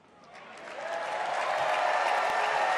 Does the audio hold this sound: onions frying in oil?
no